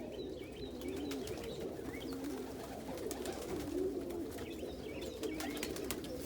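Pigeons in a loft coo repeatedly in soft, low rhythmic phrases, close by, with faint chirps and light rustling in the background.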